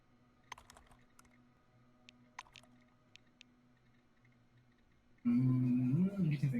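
A handful of sparse, soft keystrokes tap out a command on a computer keyboard over a low hum, before a louder burst of other sound takes over near the end.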